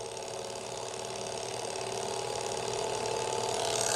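A small Stirling engine runs on the heat of a candle, giving a quiet, steady mechanical whir with a fine rapid patter that swells slightly over a few seconds.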